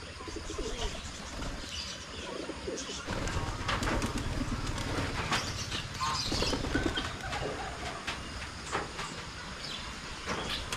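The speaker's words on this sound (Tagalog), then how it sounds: "Marami na yung kalapati natin." Pigeons coo repeatedly nearby, soft throaty calls overlapping, with a low rumbling background and occasional shuffling sounds.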